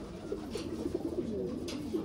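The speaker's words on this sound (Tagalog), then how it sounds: "Grabe, ang dami nito mga kalapatids." Racing pigeons inside their loft coo softly in a low, rolling series of overlapping calls, close by and continuous, with no talk.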